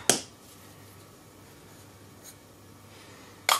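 Light taps on a bath bomb mold, a sharp knock at the start, a faint tap midway and another crisp tap at the end, against a quiet background hiss.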